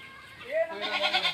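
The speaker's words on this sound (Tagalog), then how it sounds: "Mga kambing-kambing." Goats bleat on a farm with chickens, a couple of nearby wavering calls rising over outdoor background noise.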